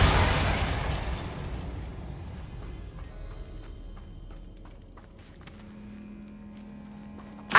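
A Confringo fire blast spell from the Hogwarts Legacy video game erupts in a loud, broad burst at the start and then fades into a long rumbling tail, with faint footsteps and small pops following.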